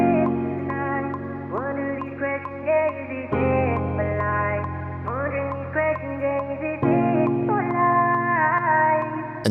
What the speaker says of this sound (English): filter it, reverb.